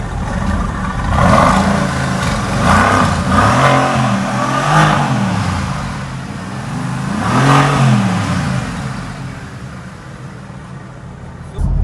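A sports car engine revs repeatedly with a throaty exhaust note, pitch climbing and falling in two or three surges, loud and close throughout.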